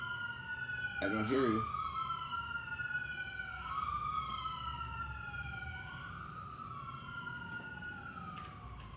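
Sirens wail outside, their long, sweeping rising and falling tones fairly faint and distant, while a person speaks briefly near the start.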